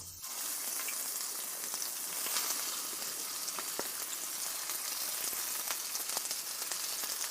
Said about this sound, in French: dans la vieille poêle en fonte, je vais mettre de l'huile d'olive, quelques oignons doux